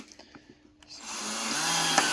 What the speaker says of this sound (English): That's not the drill bit slipping in the screw, that's the actual clutch on the drill stopping the screw from turning any further.